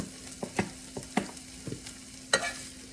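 Barbecue sauce and chicken sizzle softly on a griddle, broken by several sharp scraping taps of a spatula at irregular intervals over a low steady hum, with no voices.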